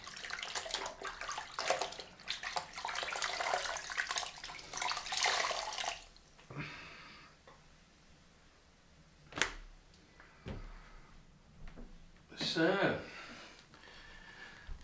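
Running tap water splashes as a face cloth is rinsed, a rushing wash for several seconds that then drops to scattered drips and short splashes, with brief bursts of flow later.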